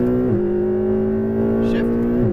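A Ferrari 488 GTB engine pulls hard on a race track, a steady loud drone climbing in pitch with brief dips at gear shifts near the start and end, heard from inside the car.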